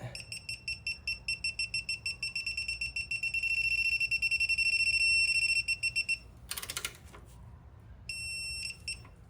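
Rapid high electronic beeps from an electronic torque wrench tightening an outer tie rod on an Acura RSX Type S, in a steady pulsing run, merging briefly into a continuous tone, then a short pause and a final burst.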